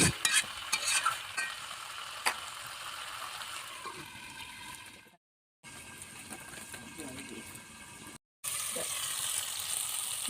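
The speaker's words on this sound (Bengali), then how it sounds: "আমরা ভেজে রাখা আলুগুলো দিয়ে দেব হালকা নাড়াচাড়া করে ঢাকা দিয়ে রাখবো" Fried potatoes being stirred into chicken kosha in a pan, with a steady close sizzle and scraping stir strokes that break off twice into brief silence before resuming.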